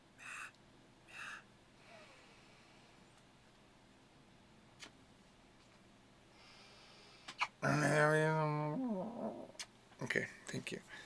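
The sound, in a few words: cat vocalizing, protesting being held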